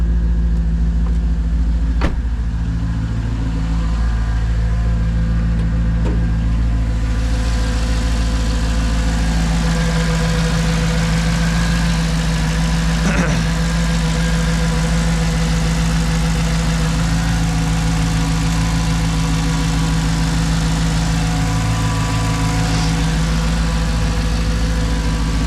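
A manual Mercedes C55 AMG sits idling in the cold while warming up, a steady low engine rumble running close and constant throughout with faint cabin noises and no talk.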